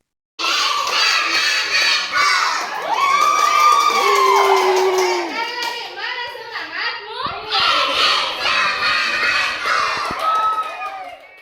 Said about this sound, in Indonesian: Kita tepuk semangat dulu yuk guys.